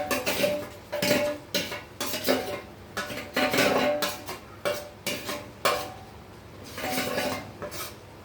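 Fish pieces are stirred and turned in a pan with ginger-garlic and masala paste for a fish curry. Repeated scraping clinks of a metal spoon against the pan come in an uneven rhythm, close and loud, over a faint sizzle.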